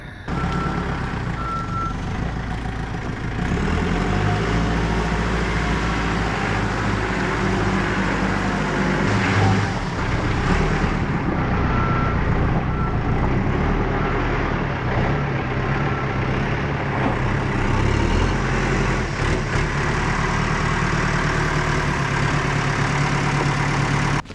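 A tractor is moved into place at a woodworking site, its steady engine running loud and close throughout, with repeated reversing beeps cutting through the drone.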